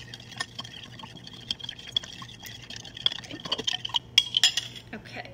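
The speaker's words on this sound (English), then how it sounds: "I add some water. And I go ahead and I mix it in all together to make like a puree slurry." Water stirred into dog food with a utensil in a bowl, giving close clinks and wet scraping taps that grow busier toward the end, with faint background hum and soft voice sounds.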